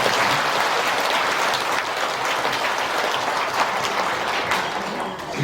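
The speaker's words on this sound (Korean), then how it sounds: "박수 한번." A crowd at a 2024 Buddha's Birthday ceremony at Bongguksa temple claps in sustained, dense applause that holds steady for several seconds before easing slightly.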